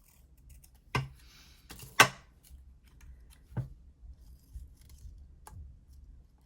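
Scissors cutting around a skeleton head sticker: a handful of crisp snips spaced a second or so apart, close and quiet, with faint rustling of paper between them and no talking.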